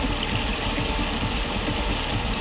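A tractor engine runs steadily through floodwater on a submerged town street, a continuous loud idling drone with a low knocking rumble and no speech.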